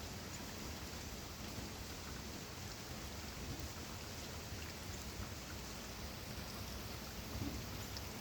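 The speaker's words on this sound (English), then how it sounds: "It is a rainy day at the farm today, and Gina's not happy." Steady rain falling on a farm, a soft, even wash of drops pattering on surfaces, moderately faint and continuous, with no voices.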